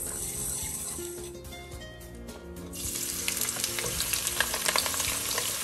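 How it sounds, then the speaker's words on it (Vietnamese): Mắc khén pepper seeds dry-roasting in a hot pan give a steady crackling, sizzling rattle that grows busier and louder partway through, with no voices. "Lấy một ít hạt mắc hén và rang nóng cho thơm."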